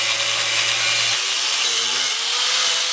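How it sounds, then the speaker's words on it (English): Steady, harsh grinding noise with a dropping tonal whine as a power grinder works down the metal transmission tunnel of a BMW E36, close and continuous throughout. "just finished grinding down the tranny tunnel"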